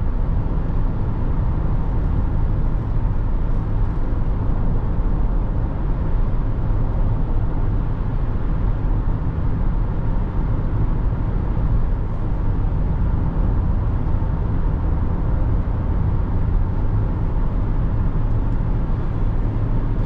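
Cabin of a 2009 Toyota Highlander Hybrid Limited with 186,000 miles, heard from inside while driving: a loud, steady road and engine rumble throughout, with no talking.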